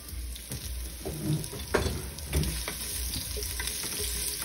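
Chopped ginger sizzling and frying in a pan for dinuguan, a steady close crackling hiss with a few stirring scrapes and no talk.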